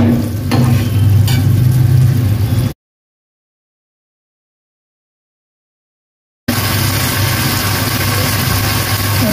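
Sukka masala frying in a pan and being flipped, giving a loud, close, steady sizzle that cuts out completely for about four seconds before resuming.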